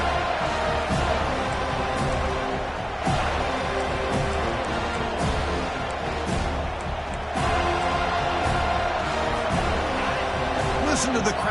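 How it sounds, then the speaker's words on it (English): Football stadium crowd early in a game, a dense, loud roar of many voices swelling steadily throughout, with occasional surges and what sounds like a commentator speaking over it. "Listen to the crowd energy here in the early going."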